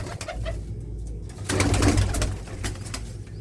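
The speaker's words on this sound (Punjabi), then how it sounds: "ਬਹੁਤ ਹੀ ਵਧੀਆ ਸ਼ਾਨਦਾਰ ਕਬੂਤਰ" Pigeons coo in low, throaty bursts close by, overlapping with fluttering and rustling, and the cooing swells briefly in the middle.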